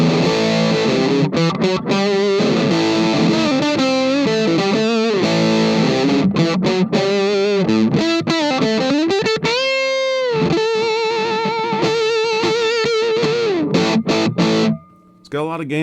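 A heavily overdriven electric guitar through an Affogato Fuzz pedal at high gain plays loud sustained chords and bending notes, ringing out with thick distortion before briefly cutting out near the end.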